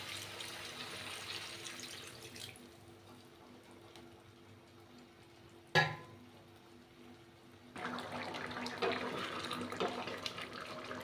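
Hot water poured into a cooking pot of taro, potato and prawn curry, a splashing rush that starts partway through and runs steadily to the end, after a quiet stretch with a sharp clatter.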